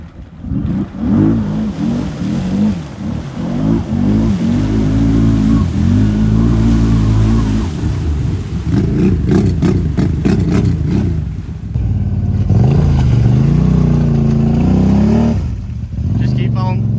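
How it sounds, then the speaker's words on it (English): A Can-Am Renegade 1000 ATV engine revs under light throttle, rising and falling loudly and close for several seconds while people talk over it. "Just keep giving it a little throttle."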